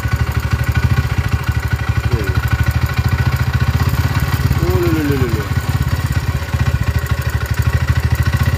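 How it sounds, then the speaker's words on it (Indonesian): Motorcycle engine idling unevenly with a tensioner fault, a close, loud chugging whose revs drift up and down. Brief voice sounds come through partway. "Gasnya naik turun, dada tinggi sendiri, rendah sendiri, nggak bisa stabil."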